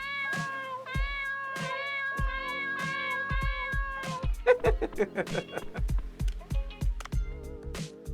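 A cat in a video game meows repeatedly in a steady rhythm, clear and prominent over a tonal game music bed, with softer chirpy sounds later in the sequence.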